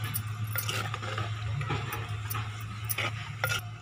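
Chicken curry being stirred in a pot, nearly cooked, with soft intermittent scraping and clicking of a spoon over a steady low simmering hum throughout.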